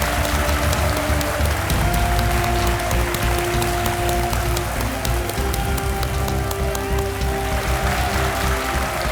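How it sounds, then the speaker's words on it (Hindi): A studio audience on the TV quiz show Kaun Banega Crorepati (KBC) claps to welcome a guest: dense, sustained applause that fills the whole stretch, with music playing beneath it. "तालियों के साथ उनका स्वागत किया जाए"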